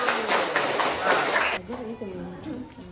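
A classroom of students claps for a student group in a dense burst of applause lasting about a second and a half, then stops abruptly as talk continues.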